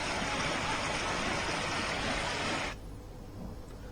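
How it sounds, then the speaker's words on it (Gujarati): A river swollen to flood level after unseasonal rain in a village roars as a loud, dense, continuous wash of water that drops abruptly to a quieter rush near the end. "વિઠ્ઠલપુર ગામની નદીમાં ઉપરવાસમાં જે વરસાદ પડ્યો તેના કારણે પાણીની આવક થઈ અને ભરપૂર પાણીથી પૂર જેવી સ્થિતિ ઊભી થઈ હતી"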